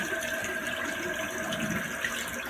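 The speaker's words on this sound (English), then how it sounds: "And this way we'll get some clean water." A bathroom sink fills with clean water during a wet shave setup, a steady close rush of running tap water with a faint tonal hum, continuous and even with no talking.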